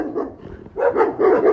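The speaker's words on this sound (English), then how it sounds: "And the dogs are barking at me" Neighborhood dogs barking, a short burst then two louder rapid woof pairs close by, with no talking over them.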